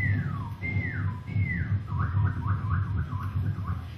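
A human whistler imitates a northern cardinal's call with a series of clear, loud, downward-slurred whistles, then a quicker run of repeated rising notes, heard alone over a steady low background hum.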